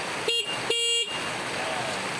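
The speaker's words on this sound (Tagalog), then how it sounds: "Pag gumamit tayo ng horn, iwasan po natin yung horn shooting." Two short horn beeps from a big manual motorcycle, one brief and one slightly longer, over steady engine and road noise.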